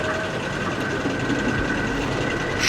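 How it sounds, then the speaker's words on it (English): Steady rumble of a train engine idling or moving slowly while shunting trucks around a harbour yard, with a continuous mechanical drone and a brief rise in loudness at the end; no talking. "BoCo was shunting some trucks around the harbour yard"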